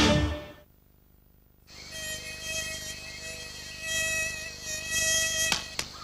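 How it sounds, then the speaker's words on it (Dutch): Mosquitoes whine in a TV advertisement, a thin high buzzing that drops out briefly after a low opening sound, then returns steadily with several overlapping insects and a sharp tap near the end. "Komen er muggen. En ze steken."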